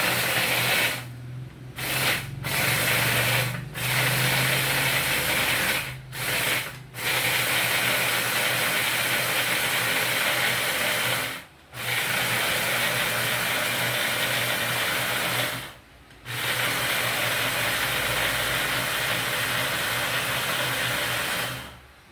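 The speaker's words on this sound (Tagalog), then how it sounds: "Ito yung panggiling natin." Small electric grinder blending chili garlic sauce ingredients at home runs loud and steady with a whining motor hum, stopping briefly several times in short pauses before starting again.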